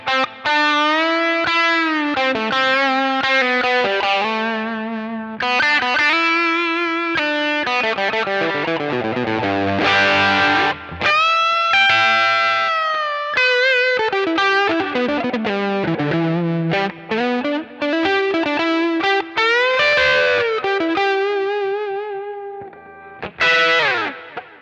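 Electric guitar played through a Kemper live profile with a booster pedal in front, giving a driven, distorted tone with effects. It runs as a continuous melodic line of sustained, bending notes, loud and alone with no talking.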